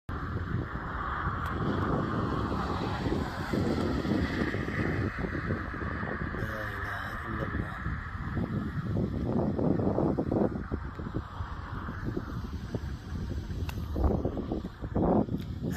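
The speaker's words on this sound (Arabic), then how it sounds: "هذه الرياح الهابطة تتجه نحو القصيم مقبل على جبل طمية الآن" A strong downburst wind roars steadily during a dust storm near Jabal Tamiyah beside the Medina expressway, buffeting the microphone with a loud, continuous rush that never lets up.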